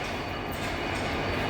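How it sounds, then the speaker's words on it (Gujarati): MEMU local electric train on the Ahmedabad to Vadodara run, a continuous loud rumble of the moving coaches with no talk. "આ મેમુ ટ્રેન કહેવાય, મેમુ."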